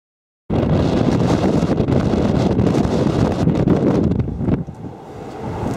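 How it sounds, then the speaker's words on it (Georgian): Strong wind roars across the microphone from a sudden start, a loud, steady rushing that eases slightly near the end, with no voices. "რა ქარია"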